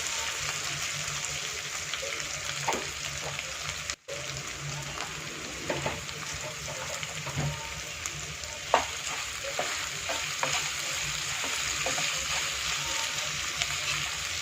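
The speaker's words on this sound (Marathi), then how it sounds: "आता आपण बटाटे बॉईल केलेले उकडलेले जे बटाटे आहेत ह्याच्यामध्ये घालून घेणार आहे। 2 मिनिटं परतून घेणार आहे" Boiled potatoes being stir-fried in a pan for a sabudana khichdi, soft steady sizzling with repeated scraping and stirring strokes of a spoon close by, no talk.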